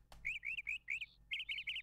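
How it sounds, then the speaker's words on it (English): Birds chirping outside in a quiz video game scene, a series of clear, close, bright tweets in quick bursts, a short pause, then another run of rapid chirps, with no talk. "All these birds outside are giving me such a headache."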